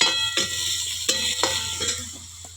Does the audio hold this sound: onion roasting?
yes